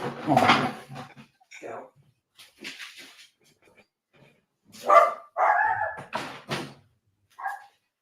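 A dog barks in short scattered bursts, some loud and close, others softer yips and whimpers, with gaps of near silence between them and a person talking now and then.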